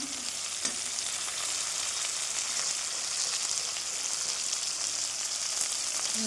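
Onions and tomatoes sizzle in a pan after cinnamon and small cardamom have been tempered, a steady dense crackling fry that runs close and unbroken throughout.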